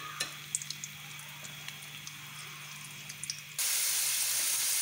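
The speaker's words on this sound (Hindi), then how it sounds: "घी के अंदर मैंने प्याज डाला है और इसको मैं हल्का सा फ्राई करूंगी।" Chopped onions drop into hot ghee: after a few seconds of faint hiss and small ticks, a loud, steady sizzle suddenly erupts and fills the last second.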